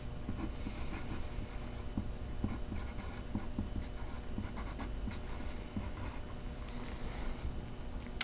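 A pen or pencil writes a name in the middle of a sheet of paper, giving soft, close scratching strokes in irregular bursts over a quiet background.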